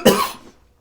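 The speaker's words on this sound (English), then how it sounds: "I coughed." One short, sharp cough, close and loud, that dies away within half a second.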